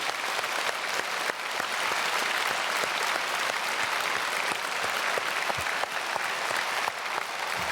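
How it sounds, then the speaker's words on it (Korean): A church congregation at a special early-morning service claps loudly for the children, continuous crowded clapping with a few sharper individual claps standing out, heard alone without speech. "우리 모든 사랑하는 자녀들에게 크게 박수로 축복하겠습니다."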